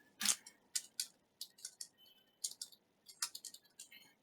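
Clicks from a computer keyboard during coding, in short irregular bursts of crisp keystrokes heard close up and fairly quiet against a near-silent background, with no talking.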